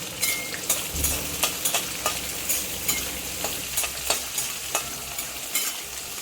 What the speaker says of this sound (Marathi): आता आपण त्यामध्ये कढीपत्ता, लसूण आणि हिरवी मिरची परतून घ्यायची.